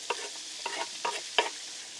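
Peppers and onions cook on a Blackstone griddle, with a soft steady sizzle broken by four sharp scraping stirs of a spatula at close range.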